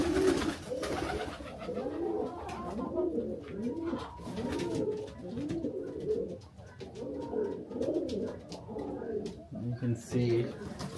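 Pigeons coo in repeated soft, throaty phrases throughout, fairly close and steady, with another bird call near the end and a faint murmur of outdoor background.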